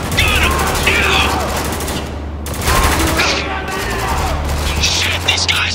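Sustained automatic gunfire from a Spec Ops: The Line firefight, dense and continuous bursts with battle noise and shouted voices over the shooting.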